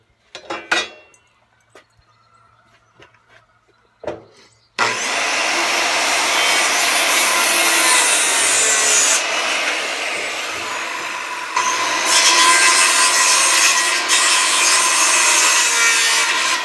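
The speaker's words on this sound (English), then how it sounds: "Jigsaw, I'll finish up these cuts." A jigsaw cuts wood for a Viking camp chair. A few brief handling knocks come first, then a loud, continuous buzzing saw cut runs close and steady to the end.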